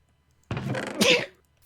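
One close, sharp sneeze bursts out after a moment of quiet and ends with a brief wheezy tail, loud and alone.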